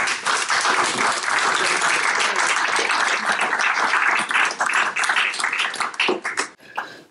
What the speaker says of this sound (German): die Eva Krismer hat sich einen ordentlichen Applaus verdient.